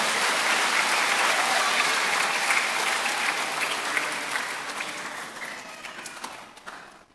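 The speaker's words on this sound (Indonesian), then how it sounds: "Kita beri tepuk tangan buat para frater" Congregation at an Easter Sunday Mass applauding the friars: dense, steady clapping from a crowd that fills the church, holding loud for several seconds before thinning out and fading toward the end.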